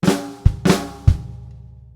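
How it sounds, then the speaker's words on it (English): Drum kit plays flams on the snare with kick drum hits in a grade 4 lesson passage, two close, punchy snare flams each followed by a kick, ringing out alone. "So flam, kick, so flam's on the snare drum there."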